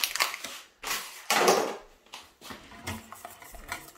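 Small pieces of butter are stirred into soft pastry cream for a chocolate cake, with several distinct wet scraping and clinking strokes of a utensil against a bowl in an irregular rhythm, close and fairly loud.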